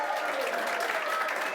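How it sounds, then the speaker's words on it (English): Studio audience applauding a contestant introduced on a National Lottery game show, a steady dense clapping wash that holds evenly throughout at moderate level. "Give him a big round of applause."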